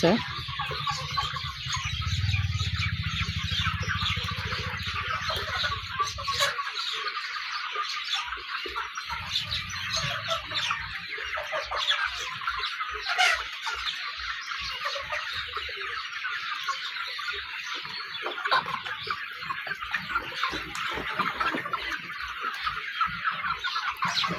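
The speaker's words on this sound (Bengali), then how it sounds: "সব মুরগি একসঙ্গে পানি খাচ্ছে" A large flock of Sonali hybrid chickens on a poultry farm clucking continuously while drinking water together, a dense close chorus of overlapping clucks with a low hum in the first seconds.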